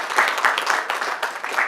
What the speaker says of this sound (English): A round of applause for management and staff at the hospital.